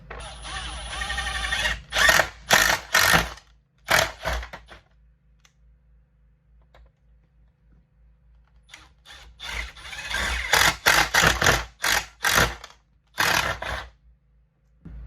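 A zippy screw is driven in bursts to make holes while installing an air conditioner support bracket, loud grinding whirs in two clusters separated by a quiet stretch, heard up close.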